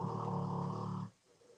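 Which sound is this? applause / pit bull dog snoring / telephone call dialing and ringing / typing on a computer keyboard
pit bull dog snoring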